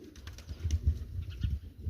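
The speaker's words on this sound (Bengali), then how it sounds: "هذا حمام" A brief burst of low pigeon coos, close and soft, over a quiet background.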